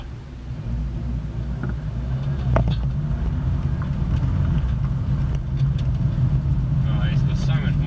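VW Transporter T5.1 van with a 2-litre engine driving on a road, a steady low engine and road rumble throughout, close and fairly loud, with faint brief clicks over it.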